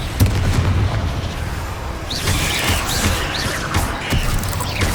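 A Confringo blasting spell explodes in Hogwarts Legacy, with dense, rumbling booms and bursts running through a loud, busy game soundscape and brief whooshing effects.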